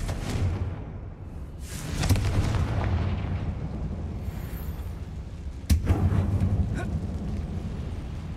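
Blasting curse explosions from the Confringo spell in Hogwarts Legacy, a tomb setting, with two strong booming bursts that ring out over a rumbling game soundscape.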